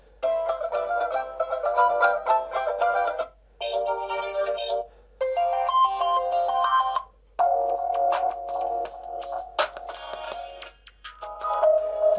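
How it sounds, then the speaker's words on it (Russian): A melodic electronic ringtone plays from a Blackview Oscal C80 phone's single speaker in several bursts with short pauses between them, thin and tinny. "Так, выберем рингтон."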